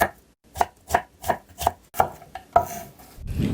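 Knife chopping on a cutting board in seven evenly spaced, close, crisp strikes, cutting glass noodles into strips for japchae; no voices.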